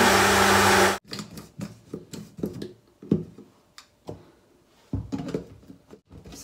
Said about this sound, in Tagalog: Bilisan itong mag-blend.